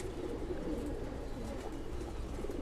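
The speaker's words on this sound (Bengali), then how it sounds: "এই যে কবুতরটা দেখুন" Domestic pigeons kept in a loft, including a hen sitting on eggs with young nearby. They coo softly, and the low murmuring calls overlap continuously against a quiet indoor background.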